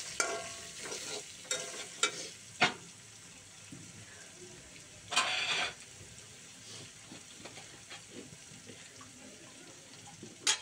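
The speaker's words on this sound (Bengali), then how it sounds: "তো আমি এখন লাড়া দিয়ে দিচ্ছি।" A spoon scrapes and stirs sugar through a sizzling pan for Bangladeshi hotel-style vegetable bhaji, with steady frying hiss and several sharp utensil knocks against the pan.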